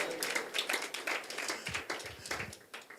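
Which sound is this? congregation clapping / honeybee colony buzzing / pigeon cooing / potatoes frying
congregation clapping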